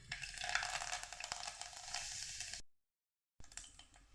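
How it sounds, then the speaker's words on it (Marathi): Mustard seeds, cumin and curry leaves crackle and sizzle as they temper in hot oil for Vidarbha kadhi gole. The frying is close and steady, cuts out briefly, then the sizzle resumes. "तेल गरम झाले, त्यामध्ये मोहरी टाकू, जिरं, कढीपत्ता"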